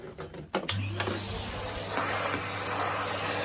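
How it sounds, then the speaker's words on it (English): A Hoover vacuum cleaner switches on after a few clicks and knocks, its motor settling into a steady whirring hum with broad airy hiss as it cleans dust from a sanded sculpture, close by and constant. "So gonna go with the Hoover, so it's gonna get a bit noisy."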